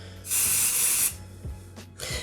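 Hair volume and styling spray from an aerosol can, one long loud hiss of spray close by followed by a brief short burst, with faint handling noises in between.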